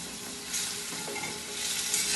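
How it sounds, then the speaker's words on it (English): Canned coconut milk spooned into a pan of Kerala-style vegetable stew with pumpkin and potatoes, producing a steady, close hissing sizzle with a slight stir partway through. "I will add about a tablespoon of the coconut milk"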